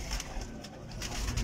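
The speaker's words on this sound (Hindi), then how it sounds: "मिस्त्रियों वाले कबूतरों का आपको शौक करवा रहे हैं जी" A pigeon coos close by, soft repeated low calls over a faint outdoor background, with no one speaking.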